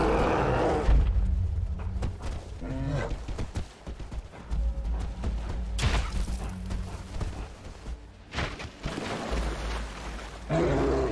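A polar bear in the Arctic game Never Alone lets out heavy, rough roars in several loud bursts, mixed with thudding impacts and rumbling game noise.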